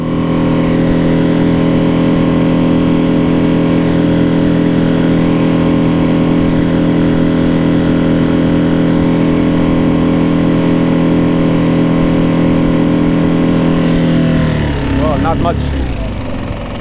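A Mercury 3.5HP outboard motor on a small boat runs at full throttle, a loud steady droning hum that holds even for most of the clip before wavering near the end.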